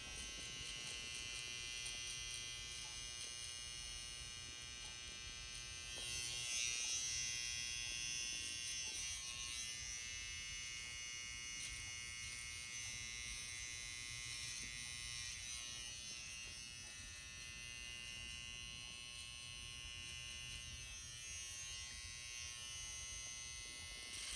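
Electric hair clippers buzz continuously while cutting a high taper with the clipper-over-comb method. The hum is steady and fairly quiet, swells briefly partway through and carries no speech.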